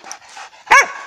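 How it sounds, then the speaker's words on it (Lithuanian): A hunting dog on a wild boar hunt gives one loud, sharp bark close by, after a stretch of quieter rustling background. "Tai kaip Gudas loja."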